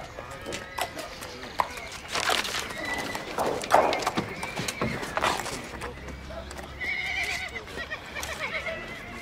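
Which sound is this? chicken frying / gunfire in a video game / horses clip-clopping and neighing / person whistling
horses clip-clopping and neighing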